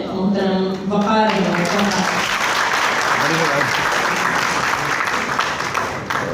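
Someone speaks briefly at a Hindi-Urdu poetry recital, then a large audience breaks into loud, sustained applause that fills the hall for several seconds before slowly fading.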